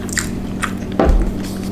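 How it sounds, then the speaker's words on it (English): Close crunch of teeth biting into crunchy fried anchovies in a spicy Malaysian dish, one sharp bite followed by brief chewing, heard alone with no talk. "Crunchy. Those are those anchovies."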